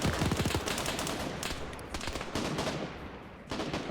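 Rapid bursts of machine gun fire crackle through an Arma 3 game soundscape, with dense rattling volleys and brief pauses between them.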